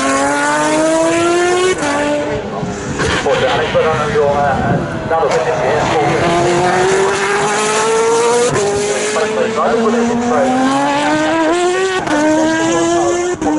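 Osella FA1D and Suzuki Arrows Formula One cars on a demo run at a Mini festival: loud, continuous high-pitched engine whine rising and falling through gear changes, with commentators talking over it throughout.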